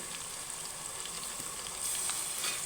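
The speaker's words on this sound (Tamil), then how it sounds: "இதுக்கப்புறம் இஞ்சி பூண்டு பேஸ்ட்டு போட்டுடலாம்" Ginger garlic paste frying in hot oil for biryani gives a steady, close sizzle throughout, swelling slightly louder toward the end, with no voices.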